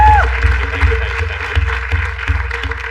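An audience at a comedy talent show breaks into loud applause, a steady wash of clapping over a low rhythmic background beat, with no clear talking.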